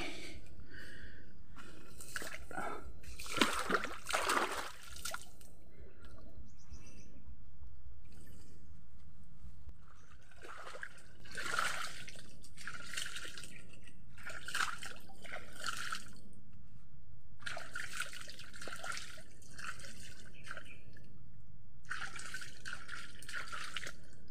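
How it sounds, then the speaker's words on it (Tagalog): Water in a small stream splashes and trickles in short, irregular bursts with quieter gaps between them. The sound is close but soft, and there is no talking. "Ito, may dito. May sapa. Ayan, may sapa."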